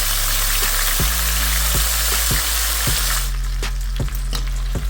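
Oxtail sears in a hot pan with a steady, loud sizzle and crackle of fat, broken by several dull knocks of a utensil moving the meat.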